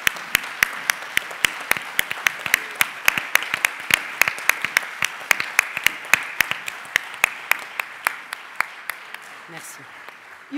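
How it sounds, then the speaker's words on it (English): A small group at a programme brainstorming event claps in a steady rhythmic unison beat, sharp evenly spaced claps continuing for about ten seconds before fading out. "Je pense qu'on peut les applaudir."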